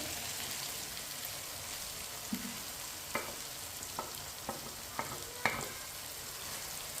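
Fried potatoes with peas and carrots stirred in a hot pan, giving a continuous soft sizzle with several sharp scrapes and taps of the spoon against the pan.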